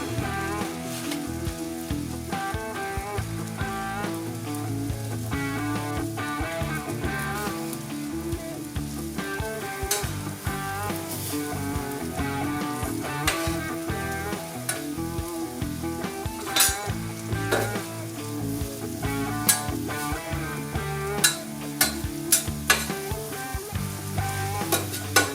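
Meat sizzles and fries steadily on a Vevor 22-inch 1600W electric flat top griddle, topped with American cheese, a continuous close crackle broken by sharp scraping and stirring clicks from a spatula.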